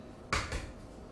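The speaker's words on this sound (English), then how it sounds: "So in a large bowl like this, we're going to add our 4 whole eggs. Just crack them into the bowl." Whole eggs are cracked into a large bowl, heard as a quick pair of sharp taps and cracks close by in an otherwise quiet room.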